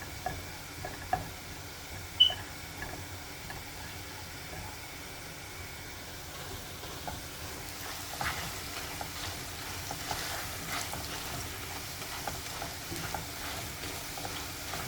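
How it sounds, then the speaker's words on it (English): Asparagus stir frying in a tablespoon of margarine gives a steady, quiet sizzle throughout, with a few faint ticks and clicks from stirring near the start. "I'm gonna stir fry the asparagus."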